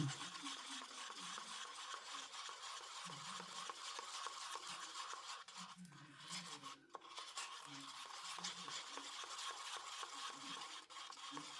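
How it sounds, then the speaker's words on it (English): Blue colouring being stirred into a larimar resin mixture, a steady scraping, rubbing swirl that repeats in close, even strokes throughout with no talking. "Mix that up really well."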